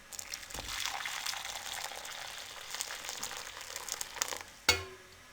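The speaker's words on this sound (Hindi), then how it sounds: "अब इसमें हम उबलता हुआ 2 कप पानी ये इसमें शामिल कर देंगे।" Boiling water pours into a bowl of corn flour mix, a soft continuous splashing and hiss lasting several seconds, close and faint, ending in a sharp clink.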